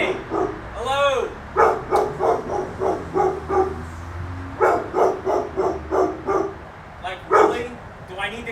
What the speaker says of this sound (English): is it possible to take your dog in?